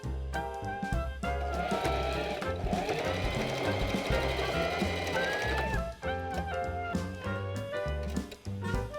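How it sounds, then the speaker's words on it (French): A domestic sewing machine topstitching 5 mm from the edge of a summer dress bodice, its needle chattering in a fast, steady mechanical rhythm close by, with brief pauses and restarts. "J'épingle et je fais une surpiqûre à 5 mm du bord."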